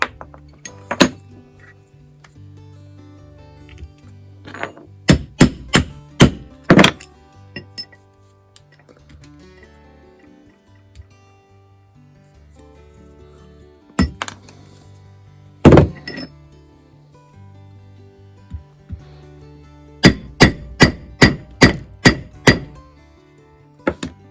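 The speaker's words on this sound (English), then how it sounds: "So we'll pin that down and rivet it as well, so they all look the same." Rivets are hammered into a leather shoulder strap on an Alaskan pack board. Sharp metallic hammer blows come in quick close bursts of four to six strikes, separated by quieter handling pauses, with no talk.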